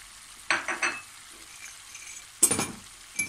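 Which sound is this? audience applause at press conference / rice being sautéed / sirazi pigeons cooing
rice being sautéed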